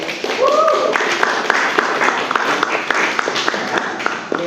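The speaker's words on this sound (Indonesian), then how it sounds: "Silahkan kalau mau mendebat atau mau tepuk tangan, silahkan." Scattered clapping from an audience at a school biology session on evolution, a few sharp claps standing out over murmuring and a voice briefly rising.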